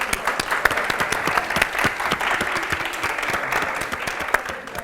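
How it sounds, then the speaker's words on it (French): Dense, steady applause from an audience honoring jury members at a French comedy event, many hands clapping close and loud throughout with no break. "S'il vous plaît, on applaudit pour les membres du jury."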